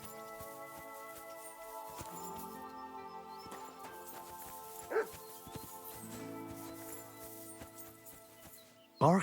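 A dog barks in Kingdom Come: Deliverance II, a medieval role-playing game, with a few short, distant yelps over steady game music, one louder burst near the end.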